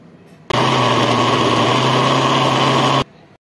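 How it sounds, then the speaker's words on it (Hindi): A kitchen mixer grinds pomegranate and banana with milk and water into a smoothie, a loud steady whirring motor that starts abruptly, runs evenly for about two and a half seconds close by, then cuts off. "इसमें जाएंगे मिल्क, करेंगे हाफ ग्लास वाटर और इसको करते हैं ग्राइंड अच्छे से।"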